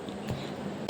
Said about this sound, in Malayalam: കുറേ നാളായി ഒരു ചുമ വന്നിട്ട് ഒരു കുറയുന്നില്ല.